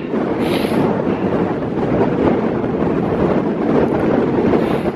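Strong gusting wind while cycling up a mountain road toward Geilo in Norway, a loud, constant roar buffeting the microphone for the whole stretch, with no speech.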